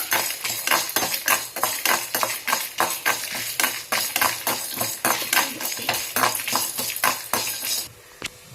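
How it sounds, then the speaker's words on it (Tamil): Coriander seeds, cumin, pepper, garlic and dry chillies roast in a pan as a spoon stirs them, making rapid rhythmic scraping and clinking with light crackle, close and steady, ending in a brief quiet pause. "கொத்தமல்லி ஜீரகம் மிளகு பூண்டு வரமிளகாய் இதெல்லாம் வந்து லைட்டாக வறுத்துக்கோங்க"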